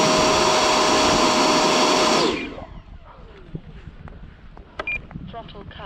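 An electric motor on a new battery pack runs at full throttle with a loud, high whine for about two seconds, then spins down quickly into near quiet with scattered small clicks and noises.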